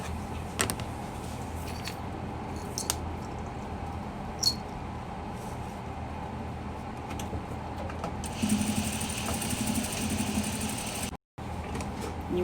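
A sewing machine runs without a pause while stitching a fabric cat collar, giving a steady mechanical whir with a few faint clicks and a short break near the end.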